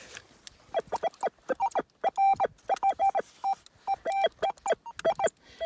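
Metal detector beeping while searching for coins outdoors, a rapid series of short, clipped electronic tones in uneven bursts, loud and close with gaps of near silence between groups.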